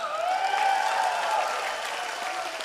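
An audience at an outdoor religious lecture gathering applauds in a steady, dense wash of clapping, with a few voices calling out over it.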